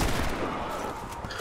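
Dense gunfire in the online shooter Warface, a loud continuous volley of overlapping automatic shots with no talk.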